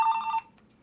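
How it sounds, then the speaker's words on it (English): A house phone's electronic bell trills loudly for a moment, then cuts off into near silence. "I have my cell phone, my house phone, which is ringing obnoxiously"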